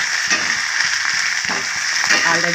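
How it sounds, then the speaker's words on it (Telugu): Onions frying in a pan with ginger garlic paste, a loud steady sizzle with faint scraping stirs throughout. "ఇంతో పాటు ఉల్లిపాయలతో పాటు అది కూడా ఫ్రై అయిపోతుంది."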